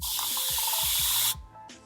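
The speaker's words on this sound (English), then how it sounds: "It's a continuous spray bottle, or you might know it as like a Flairosol." A Tangle Teezer continuous spray bottle, Flairosol style, gives a steady, sustained misting hiss for over a second, cuts off, then starts a short second burst, close by and without talk.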